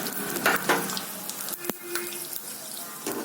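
Peanuts and dried red chillies frying in hot oil for flattened-rice pulihora, a steady close crackling sizzle with a few louder spits and stirring scrapes, no talking.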